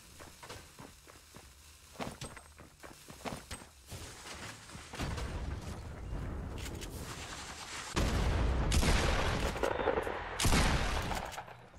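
Game gunfire from a Fortnite Winter Royale qualifier match: scattered sharp shots and footsteps early, then a dense, loud burst of rapid firing and explosive impacts in the later half, close and continuous.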